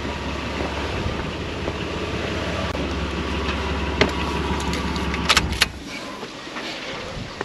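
A car engine idles with a steady low hum in an Australian forest, then cuts off near the end and leaves quiet surroundings with a few faint clicks.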